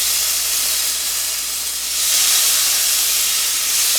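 A loud, steady sizzling hiss of chicken searing in a dry, very hot pan, continuous and close with no voices.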